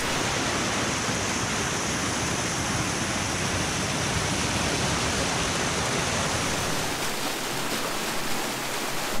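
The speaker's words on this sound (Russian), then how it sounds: "водопадик очень красивый, такой серебрится, искрится, шумит на склонах гор" A small waterfall rushes down a mountain slope on the Kola Peninsula near Lovozero, a loud, steady broadband roar of falling water close by, unbroken throughout with no voices.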